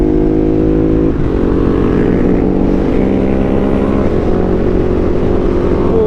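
Ducati motorcycle with Brembo brakes and hydraulic clutch pulling away during a group ride day, its engine droning loud and steady with a rising rev and rough, throaty texture.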